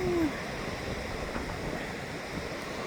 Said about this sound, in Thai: มันเป็นลำธารเล็ก ๆฟังนู้น